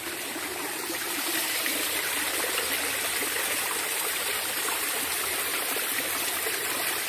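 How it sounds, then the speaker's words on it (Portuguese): A small waterfall pours over rocks below a hilltop viewpoint, a steady broadband rush of falling water that stays loud and constant throughout, with no voices. "E cá embaixo essa cachoeirinha."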